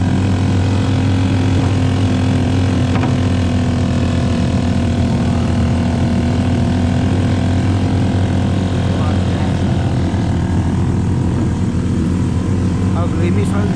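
A motorcycle on Mansinam Island in Papua climbs an uphill slope, its engine droning steadily and loudly for the whole stretch with a low, throbbing hum and little variation.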